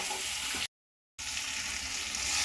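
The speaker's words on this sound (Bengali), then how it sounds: "এবার আমি এর মধ্যে দিয়ে দিচ্ছি ডালটা" Boiled masoor lentils hit a hot pan for a sour raw-mango tok dal, giving a loud, steady sizzle that cuts out completely for a moment and then resumes just as strongly.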